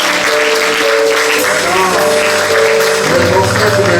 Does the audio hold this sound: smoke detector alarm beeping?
no